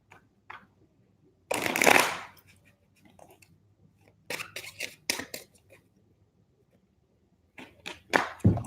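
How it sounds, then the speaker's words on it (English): Crisp bursts of oversized tarot cards being riffled and shuffled, a few separate flurries with quiet gaps between, close up and with no talking. "These cards are bigger, so it's like harder to shuffle."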